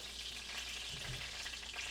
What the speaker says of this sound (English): So what I'm gonna do is I'm gonna put some fish.